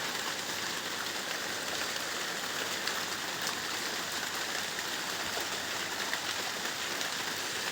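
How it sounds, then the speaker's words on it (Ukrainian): Rain drips steadily through grapevines outdoors on a dark day, a dense, even patter of drops that stays constant and fairly quiet throughout, with no talk. "Бачите, як темно на дворі і йде дощик."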